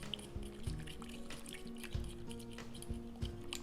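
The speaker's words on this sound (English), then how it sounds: "I have some hot, just boiled water here, and I'm just putting enough, maybe a 1/4 cup or so into this Pyrex" Just-boiled water poured in a small amount, about a quarter cup, into a Pyrex glass dish to dissolve salt, giving faint close trickling and dripping with a few soft splashes over a low hum.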